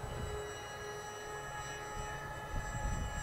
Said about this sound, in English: Jeff, this thing flies so nice.